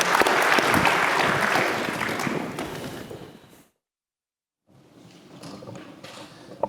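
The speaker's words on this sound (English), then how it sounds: "Let's give a round of applause to our" Audience at a university lecture applauds distinguished alumni, a loud, dense burst of clapping that fades out after about three seconds, followed by a brief silence and then a quieter scattering of claps.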